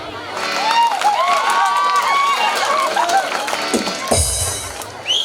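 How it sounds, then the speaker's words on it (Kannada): An audience at an outdoor stage gathering applauds and cheers for an arriving guest, a dense spread of clapping and shouting with children's voices, loud and sustained for several seconds before a heavy thump near the end. "ಅವ್ರು ಬಂದದಕ್ಕೆ ಒಂದು ಚಪ್ಪಾಳೆ ಬನ್ನಿ"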